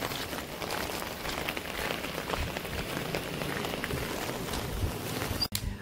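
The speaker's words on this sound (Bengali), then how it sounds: "আর বৃষ্টিও খুবই জোরে" Heavy rain pours down in a continuous dense roar, a steady loud hiss of drops hitting surfaces all around, with no voice heard.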